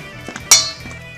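Beet leaf salad is tossed with dressing in a bowl, giving soft rustling touches and one sharp clink of utensil against the dish, close and without talk.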